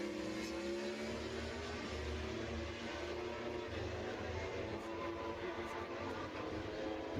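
A MotoGP racing motorcycle engine at Catalunya is heard from onboard, a loud steady high-revving howl that holds without a break across the whole stretch with no talk over it.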